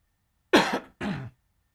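A man with bad acid reflux coughs and clears his throat in a home flight-simulator cockpit: two close, loud, rough bursts, the first harsher and longer, the second following after a brief pause.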